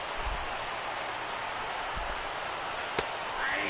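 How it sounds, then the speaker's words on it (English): Steady rain falls on an outdoor baseball game between the Brewers and Reds, an even wash of hiss with a few soft thumps and a sharp crack around the three-second mark. "The rain, as we've mentioned, coming down fairly steadily here at game time"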